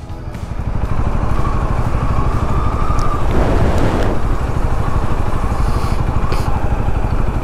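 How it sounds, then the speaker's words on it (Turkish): A Honda CL 250 Scrambler motorcycle rides through a corner, its engine humming steadily near the listener under a constant rush of wind and road noise, with a brief swell partway through. "Yani motor güzel bir şekilde viraj alıyor."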